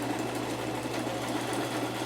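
A sewing machine stitches a tag onto the top of a craft piece, its steady motor hum and rapid needle clatter running continuously and close up with no talking.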